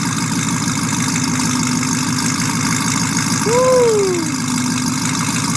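A cammed Mustang GT V8 with headers, off-road H-pipe and Pypes bomb exhaust idles loud and steady with a low, lumpy rumble throughout, while a voice lets out a brief whoop midway.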